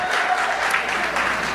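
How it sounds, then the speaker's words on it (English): A church audience claps together in a dense, even burst of applause that fills the whole short moment. "give her a good hand clap"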